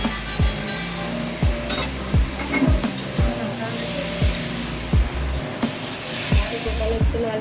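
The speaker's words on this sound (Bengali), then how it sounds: "দেখো গোপালের জন্য আলুর দম রান্না হচ্ছে।" Aloo dum potato curry cooks in a pan for a Janmashtami offering, with a steady low simmer and sizzle under repeated scraping stirs of a spoon, each stroke landing about once a second, close and moderately loud.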